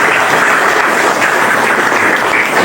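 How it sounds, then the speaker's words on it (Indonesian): An audience at a teacher training performance assessment claps together in a dense, continuous burst of applause that stays even and fairly loud throughout, with no talking. "Kasih aplaus."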